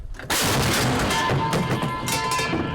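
A heavy blast from a KS-19 anti-aircraft gun erupts after a brief lead-in, followed by a long rumbling roar and echoing reverberation, loud and close.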